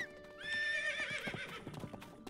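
A horse in Zelda: Tears of the Kingdom lets out a loud, clear whinny that rises and then trails off, followed by a few soft hoof clops.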